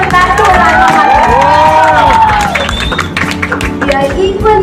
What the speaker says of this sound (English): Let's give her a round of applause and a super warm welcome back to our alma mater.